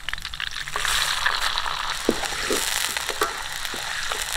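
Fennel seeds sizzle steadily in hot oil in a pan while a spicy crab gravy is cooked outdoors in a village, with soft scraping stirs and small pops over the continuous frying hiss.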